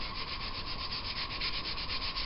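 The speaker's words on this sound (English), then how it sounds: "So now, just using some sandpaper, I'm just going by hand." Steel saw blade being sanded by hand with 150-grit sandpaper, a steady rhythmic rasping of back-and-forth strokes, close and continuous with no talking.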